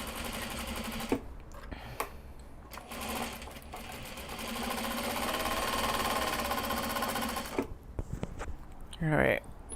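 A sewing machine stitches welt pockets for a mini traveller notebook, its motor buzzing in steady runs that pause and restart, with short clicks between bursts and no one speaking.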